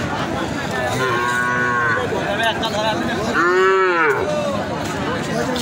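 Cattle at a rural cattle market in Mahadevpur, Naogaon, low loud moos rising and falling twice, close by over a steady crowd murmur.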